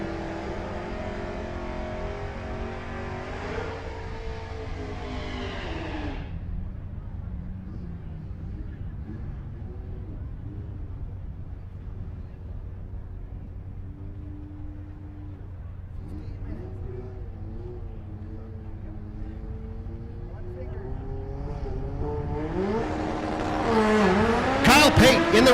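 Drag-style race cars, one a Camaro, launch down side-by-side lanes at Rocky Mountain Race Week: engine revving early, a quieter idle stretch with faint talk, then a loud rising roar near the end.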